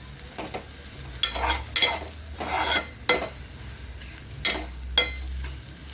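Garam masala frying in hot oil for a Maharashtrian sandga rassa bhaji, with intermittent spoon scrapes and stirring bursts over a low, steady sizzle, close and moderately loud.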